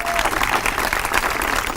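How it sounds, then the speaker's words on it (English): A crowd at an outdoor groundbreaking in Swope Park applauds the partners from Petco, close, busy clapping from many hands that holds steady and full for the whole short stretch. "let's give a big round of applause to our partners at Petco"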